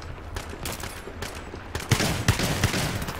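Rapid bursts of gunfire from a first-person shooter video game, including shotgun blasts, crackling in dense volleys under game noise, with a few louder shots near the end.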